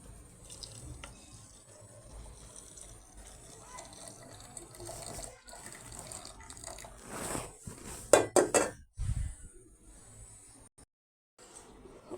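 Rose tea being poured from a pot into cups, a soft running trickle of liquid with faint clinks of crockery near the end, heard close and alone without talk.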